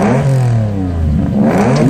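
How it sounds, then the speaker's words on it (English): A Toyota Century's 1GZ-FE V12 revs hard through its exhaust, a loud, close, smooth multi-cylinder roar whose pitch dips and climbs across the rev, with no voices over it. "Japan's first and only V12 engine in a production car, the 1GZ-FE V12. It made quite a sound too,"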